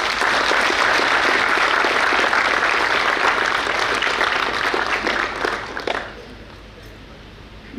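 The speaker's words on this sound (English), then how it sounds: "I think they deserve a round of applause" Loud, dense audience applause at a university convocation ceremony, filling the hall for about six seconds before quickly thinning and fading out.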